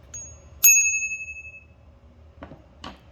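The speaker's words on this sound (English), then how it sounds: "This here is a bell." A Velotric Discover 1 e-bike's handlebar bell gives one bright, sharp ding that rings out and decays slowly, followed later by a couple of faint metallic clicks and taps, with no talking.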